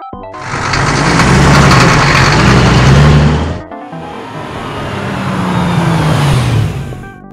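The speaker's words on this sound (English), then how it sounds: "Police tow truck." A police tow truck engine revs loudly up close, a broad rumbling burst that cuts off, then a second, slightly softer engine pass with a falling pitch follows.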